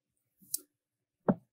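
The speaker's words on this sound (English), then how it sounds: "we could get them directly here just by clicking that" Two separate computer mouse clicks, a softer one followed by a sharper one about three-quarters of a second later, isolated and close against silence while navigating business contact software.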